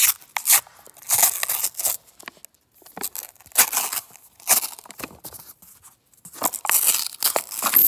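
A paper coin roll is torn open by hand in short bursts of ripping and crinkling, close and fairly loud, with brief pauses between tears.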